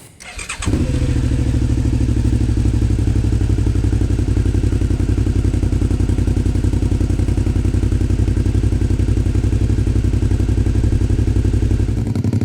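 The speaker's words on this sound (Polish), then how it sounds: "jak brzmi ten wydech" Black 2019 Suzuki DL650 V-Strom motorcycle idling up close, its exhaust giving a steady, loud, even throb that starts within the first second and runs unbroken to the end with no talk.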